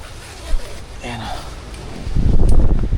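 Strong wind gusting outdoors in Lobo, Batangas around a tarp shelter, a steady broadband roar that swells louder toward the end, with rustling and buffeting against the microphone.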